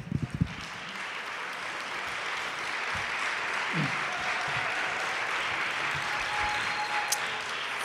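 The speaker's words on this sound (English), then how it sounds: "That applause really is for you." Steady audience applause fills a lecture hall after a talk on Black history, a few louder claps at the start and then a continuous even wash of clapping.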